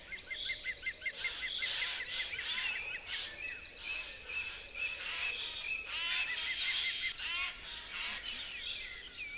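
A female owl gives repeated high, chirping calls to signal her return to newly hatched owlets in a nest, close and clear, with a brief louder squeal midway.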